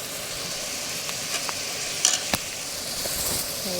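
Green onions sizzle in hot oil in a pan, a steady close hiss with a few sharp clicks and scrapes from stirring, no one speaking.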